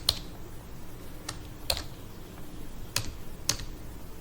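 Keys clack on a computer keyboard as a search term is entered, a handful of distinct, sparse taps spread over a few seconds against a quiet background.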